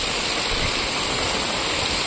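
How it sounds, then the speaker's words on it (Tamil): Floodwater after heavy rain in Tirunelveli district rushing through a village like a stream, a loud, steady roar of churning water close by with no talking. "ஓடையில் வர்ற மாதிரி தண்ணி வருது"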